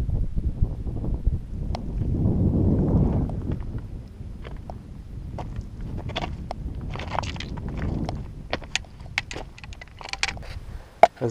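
Gusts of strong wind on a mountain buffet the microphone in rumbling swells, rising around the third second and again later, with scattered clicks and scuffs over the top.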